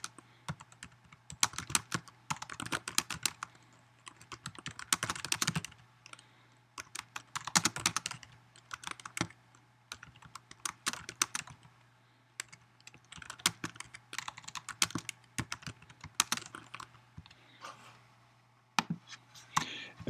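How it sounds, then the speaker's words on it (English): Fingers type on a computer keyboard in bursts of rapid, close key clicks separated by short pauses, with a faint steady hum underneath and no voices. "I'm just going to type in a message to my parents."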